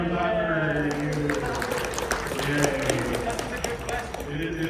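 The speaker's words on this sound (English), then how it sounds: "everyone clap for you" A crowd applauds at a convention panel, with dense, steady clapping that holds for several seconds, mixed with voices and some cheering underneath.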